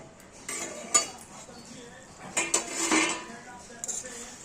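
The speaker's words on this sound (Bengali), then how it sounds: "এখানে আমরা ঠিক 2-3 মিনিট হয়ে গেছে, আমরা ঢাকাটা খুলে একবার দেখে নেব।" A metal lid lifted off a cooking pot of boiling potatoes, giving a few close clanks and rattles of metal on metal, with a brief voice in the background.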